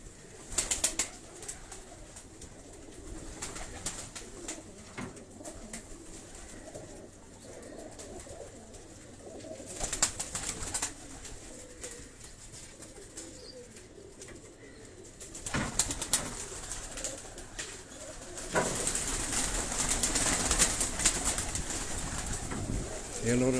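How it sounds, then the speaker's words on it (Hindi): Pigeons in Karachi coo softly in a cluster, low throaty calls repeating under occasional talk and rustling, with a few wing flutters and louder bursts later. "ये कुछ थोड़े से कबूतर मैंने आपको दिखाए"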